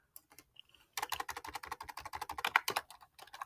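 Fingers type on a computer keyboard in a quick, uneven burst of close clicks after a few isolated keystrokes.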